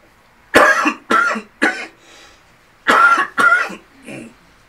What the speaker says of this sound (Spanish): al esforzarse al hablar viene la tosedera